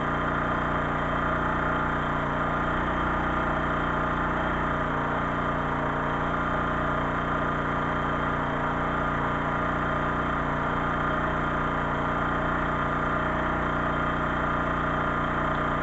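A generator engine runs at a camp, powering everything: a steady, continuous mid-pitched engine drone with a constant rumble, holding level throughout with no talk.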